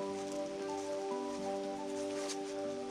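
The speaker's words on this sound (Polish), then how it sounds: "by się schronić przed deszczem" Steady rain falls near an abandoned, decaying estate in Belgium, a continuous dense patter with a sustained tonal hum running underneath throughout, no voices.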